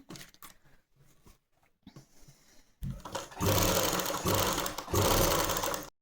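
A sewing machine runs stitches along a salwar belt at a 2.5-inch gap. Soft handling noises come first, then a loud, close, continuous machine run takes over from about three seconds to the end.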